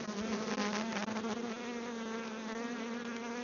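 Honey bees buzzing around a hive, a dense steady drone of many wings close by with a constant hum and shifting overtones, no talk.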